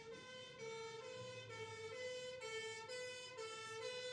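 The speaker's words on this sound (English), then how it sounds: "I don't know if you can hear that fire engine in the background." A fire engine siren wails outside, a steady rising-and-falling tone heard from a distance and fairly faint, alone without talk.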